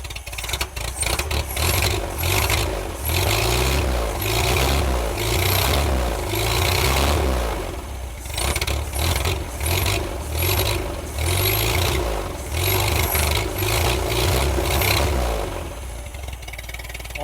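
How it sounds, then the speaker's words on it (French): An old pontoon boat engine runs after sitting unused for 30 years, with no cooling system connected, keeping up a loud, steady, throbbing idle with uneven pulsing swells from start to finish, no voices. "Bon bah moi je dis que c'est un moteur qui tourne."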